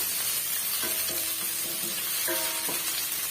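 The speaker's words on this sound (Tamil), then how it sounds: "இஞ்சி பூண்டு பேஸ்ட் வந்து சேர்த்துக்கலாங்க சேர்த்துட்டு அந்த பச்சை வடை போகிற வரைக்கும் நம்ம வறுத்து விட்டுக்கலாம்" Ginger garlic paste sizzles in a hot pan for an egg biryani, a steady close-up frying hiss with a few brief stirring scrapes and tonal clinks, no voices.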